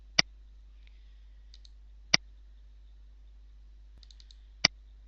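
Three crisp, isolated mouse clicks spaced about two seconds apart, close and dry against a quiet room, selecting the paint bucket tool in Photoshop.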